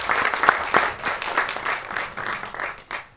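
An audience at an album song screening festival breaks into applause, sharp overlapping claps in an uneven burst that swells and fades across the clip, fairly close and without talk over it.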